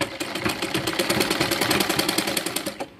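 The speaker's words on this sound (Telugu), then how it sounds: "నెక్ ఎలాగుందో అలానే జస్ట్ క్లాత్ పైన పెట్టుకుంటూ స్టిచ్ చేసుకుంటూ వెళ్ళిపోవడమే" A sewing machine stitching a blouse neckline onto cloth runs in a steady, rapid rhythmic chatter for about three seconds, close and fairly loud, then stops.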